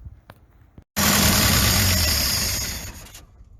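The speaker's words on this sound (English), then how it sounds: "Glad you got to see the motor fire up" A 1964 Ford truck engine cranks and catches, roaring loudly and close for about two seconds before dying away, preceded by a short click and faint rumble.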